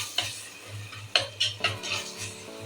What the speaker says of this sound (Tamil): சும்மா ஒரு கலக்கலை போதும் வச்சுக்கோங்களேன்